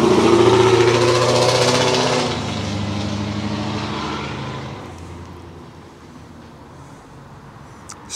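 A 2016 Jeep Wrangler engine idles after a remote start, a loud close rumble that slowly settles and fades quieter over several seconds.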